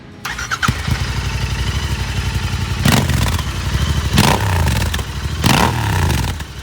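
A Royal Enfield Continental GT 650 idles through an AEW TE102 exhaust with dB killer fitted, deep and throaty, then is revved three times in loud bursts that rise and fall back to idle.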